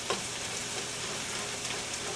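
Frozen okra, corn and tomatoes fry in a pan on the stove, giving a steady, dense crackling sizzle like light rain, even in level and moderately close.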